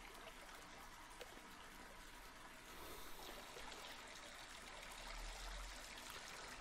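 Bath water keeps running from a tap into an almost full tub, a steady soft trickling stream, faint and unbroken, swelling a little toward the end with no voices over it.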